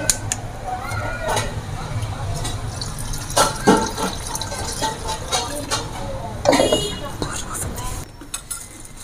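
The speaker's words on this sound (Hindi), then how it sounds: "अब इसमें डालेंगे हम पानी," Water pours steadily into a container, a continuous splashing rush with a few clinks of glass against glass, close by.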